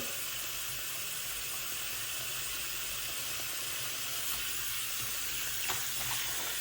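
Water running into a sink for rinsing clothes, a faint, steady hiss and trickle throughout with a slight splash near the end, no talking.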